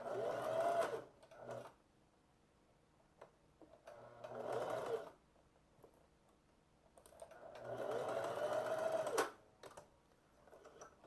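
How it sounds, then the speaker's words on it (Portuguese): A sewing machine stitches a short seam under one centimetre to hold a pleat in a pair of shorts. It runs in three separate whirring bursts with quiet pauses between them, close and steady, with no talking. "Vamos fazer uma costura menos de 1 centímetro,"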